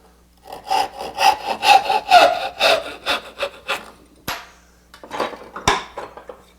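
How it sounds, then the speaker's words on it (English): A hand saw cuts off a piece of wood in a tray-making workshop with a quick run of rhythmic rasping strokes, close and loud, then a pause and a few final strokes with sharp knocks as the piece comes free. "I'm going to cut this off really quick. I guess I could do it right here."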